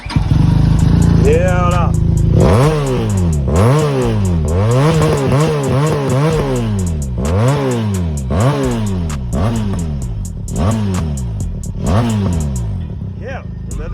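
A Benelli TRK 502X motorcycle engine cranks and fires, then revs repeatedly in loud, close, rising-and-falling blips over a steady idle, with someone speaking briefly.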